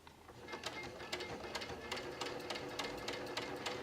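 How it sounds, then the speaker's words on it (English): A sewing machine runs steadily in a straight stitch, hemming a blanket, its needle tapping in a quick, even rhythm close by. "I'm using just a basic straight stitch on my sewing machine"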